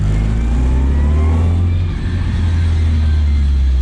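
A Toyota Corolla TE72 fitted with a 3SGE engine driving along, its loud steady engine drone and road rumble joined by light rattles from the old body, with no talk over it.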